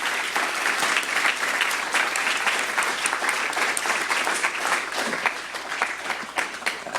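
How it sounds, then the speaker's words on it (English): An audience applauds panelists at the close of a tech-industry panel discussion, with dense, sustained clapping that stays steady and fairly loud for several seconds before thinning slightly. "an applause for our two brilliant panelists"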